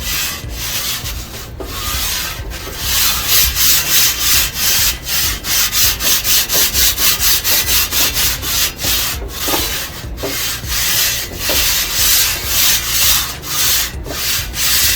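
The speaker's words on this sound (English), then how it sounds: "it grabs onto it, and it will let you scrub the surface" A grill screen scrubs the hot surface of a Blackstone griddle with loud, close, rhythmic rasping strokes, fast back-and-forth scrapes repeating steadily throughout.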